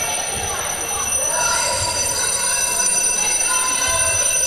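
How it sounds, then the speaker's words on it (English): Cowbells clang continuously in a netball arena crowd during a Europe Netball Open Challenge match between Israel and Switzerland, one bell sounding like a ringing phone, all under loud steady crowd noise and commentary. "They're the cowbells we can hear."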